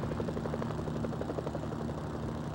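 A helicopter's rotor chops in a fast, steady rhythm over a heavy engine drone, loud and constant, with no voices, in the OG Xbox game Mercenaries: Playground of Destruction.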